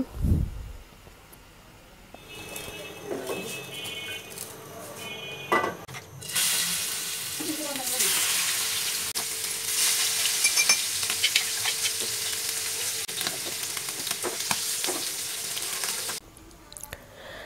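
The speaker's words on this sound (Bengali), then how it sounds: "আর এখন ইলিশ মাছগুলো ভেজে নেওয়া হবে" Pieces of hilsa fish fry in hot oil, a few clicks and clatters at first, then a bright, loud, continuous sizzle with occasional pops and stirring sounds for most of the stretch before it cuts off near the end.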